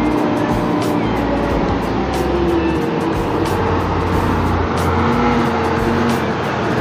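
A bus pulls into the Anjuk Ladang bus terminal during a busy hour, its engine a steady rumble beneath continuous terminal bustle and traffic noise.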